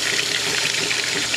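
A washing machine fills with hot water at full pressure, a loud, steady rushing gush of water close by, alone and with no voices.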